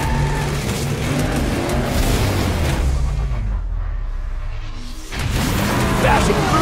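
Hot Wheels monster trucks Steer Clear and Bone Shaker race hard, a loud, continuous roar of engines and tire noise that dips briefly before surging back, with a voice talking over it.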